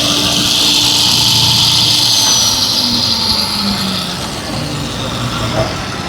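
Garment cloth cutting machine slicing through a stack of 70 pieces at once, a loud, steady high-pitched mechanical whine and drone with a rumbling undertone, easing slightly toward the end.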